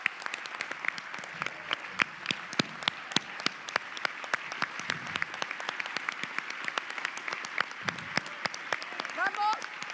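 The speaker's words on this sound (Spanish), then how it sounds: "Yo propongo un fuerte aplauso para ese compañero." Loud, sustained applause from a large crowd at a political rally in memory of a fallen party comrade, with sharp individual claps standing out over the dense wash and shouting voices mixed in.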